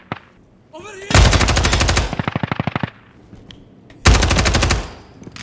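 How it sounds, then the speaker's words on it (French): Gunfire in a video game: two loud bursts of rapid automatic fire, the first trailing into a slower string of shots, with a short quiet gap before the second burst and no talk. "le son des armes de loin est vraiment hyper efficace"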